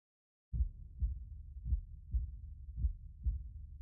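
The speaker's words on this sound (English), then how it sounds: "Why do I hear a heartbeat then?" Heartbeat in a horror video game, a deep muffled thumping that starts suddenly after a moment of silence and repeats at a slow, steady pace, close and soft with no talking.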